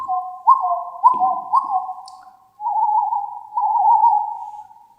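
A human voice imitates a squirrel call: a few short clipped whistled notes followed by longer wavering sustained whistles, close and fairly loud, with no talking.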